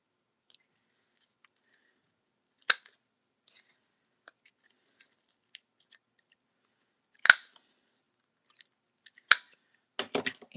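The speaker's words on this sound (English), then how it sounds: "So I'm just going to cut the little corners off." Scissors snipping the corners off a craft piece in a lavender-and-coffee paper journal, a few sharp separate cuts spread across a quiet tabletop, with a quick cluster of snips near the end.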